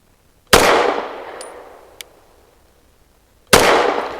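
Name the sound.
pistol shots, EAA Girsan Witness 2311S, Hornady 115 grain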